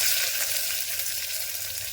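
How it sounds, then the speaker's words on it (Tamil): Chopped onion sizzles steadily in a hot pan, a continuous bright frying hiss with no talking over it. "அந்த வெங்காயத்தை போட்டுக்கோங்க."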